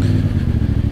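A CF Moto 450CL-C motorcycle engine idles and burbles close by, a steady low pulsing thrum with light mechanical clatter and no talk.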